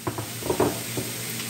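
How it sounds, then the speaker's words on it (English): Pork chops and mushrooms sautéing in a pan give a low, steady sizzle with soft stirring scrapes and light clatters scattered through, close and moderately quiet. "so while this is sautéing"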